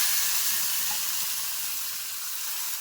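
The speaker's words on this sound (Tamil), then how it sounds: "பூண்டு, கருவேப்பிலை, இந்த இடித்த பூண்டு எல்லாம் கொஞ்சம் நிறம் மாறினோடனே இப்போ தாளிச்சிடலாம்" Crushed garlic and curry leaves sizzling in hot oil as tempering for dal, a steady, loud frying hiss that continues without break and fades slightly toward the end.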